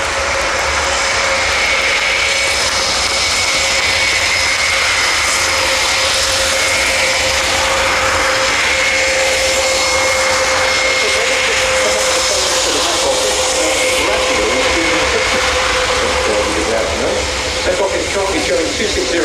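Large military transport aircraft, larger than a C-130, with big low-pressure tyres, flies past at the RIAT airshow, giving a loud, continuous engine roar with a steady tonal whine throughout.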